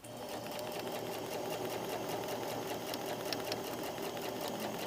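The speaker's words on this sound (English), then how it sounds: "now I'm going to finish sewing, making sure that these are lined up together" A sewing machine stitching fabric darts on a skirt, a steady fast mechanical whir and hum, close and continuous with no talking.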